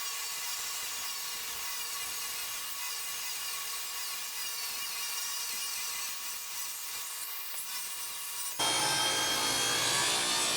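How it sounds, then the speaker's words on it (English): A table saw with a 2 horsepower motor strains while cutting ash lumber, a steady close whine and rasping saw noise that runs throughout, with a sharp change in tone near the end. "this was a struggle with my table saw"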